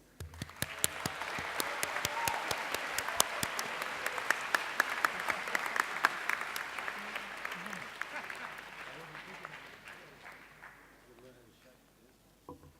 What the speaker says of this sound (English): people want to shout and cheer and clap really loudly for that first phase of students